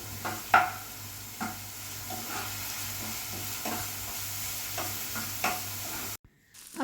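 Curry leaves being stirred into masala in a pan, with a steady oil sizzle under repeated scraping strokes of a spoon, then a sudden cut to near silence at the end.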